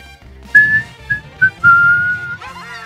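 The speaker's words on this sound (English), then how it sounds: "My loud, loud whistle?" A person whistles loudly and piercingly in several bursts: short chirps, then a long sustained note that slides at the end, with no other voices.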